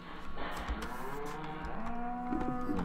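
Game cattle in Farming Simulator 2013 low in a long, loud moo, with a second rising bellow near the end, both close and unaccompanied by speech.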